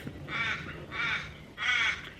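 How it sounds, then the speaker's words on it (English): A large black crow in Australia gives three harsh caws, evenly spaced and fairly close, against quiet background noise. "It's a great big black crow."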